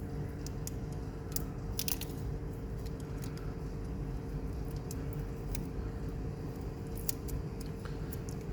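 A plastic ice cream spoon being cut with repeated sharp snips and crunches, close up over a steady low background hum.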